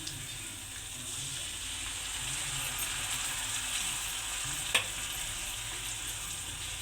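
Tomato paste frying in oil for a Punjabi-style okra masala curry, a steady close sizzle that holds evenly throughout, with one brief sharper clink near the end.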